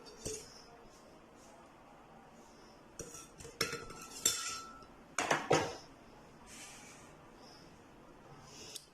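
Apple pieces dropped into a blender jug for a breakfast smoothie, a cluster of close, sharp clinks and knocks in the middle of the clip between quieter handling noises.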